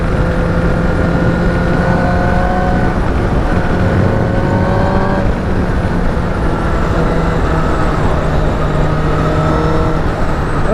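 A 2019 Honda CBR1000RR Fireblade motorcycle cruises in sixth gear, its engine a steady, loud drone blended with rushing wind and road noise throughout, with no gear changes.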